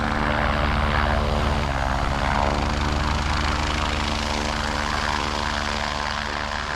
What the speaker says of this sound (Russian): Звук такой, как будто реактивный самолет.